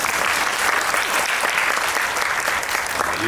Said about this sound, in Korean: 이재용 배우의 수려한 해석에 역시 또 큰 박수 보내드리고